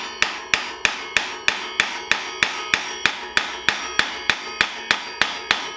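A hammer batters the axle nut of a Giant Fathom E+ electric mountain bike during a repair, striking about sixteen sharp metallic blows in a steady, even rhythm, close and loud.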